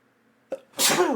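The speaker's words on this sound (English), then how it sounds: "Oh, sneeze. It's coming. I can feel it." A single close, loud sneeze with a short sharp intake of breath before the explosive burst, with no talking.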